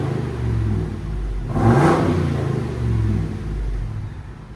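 Ford F-250 pickup with a 7.3L V8 and muffler-deleted exhaust revs up, a deep close rumble swelling into one brief louder surge before settling back to a steady throaty drone.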